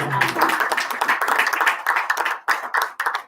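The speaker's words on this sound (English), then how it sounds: "Big applause for Al too." School board meeting attendees clap close and loud for about three seconds, individual hand claps distinct, with a brief voice at the start and the clapping thinning toward the end.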